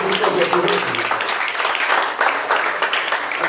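A church congregation claps and applauds in praise, a dense ongoing patter of many hands heard under a preacher's voice and crowd voices.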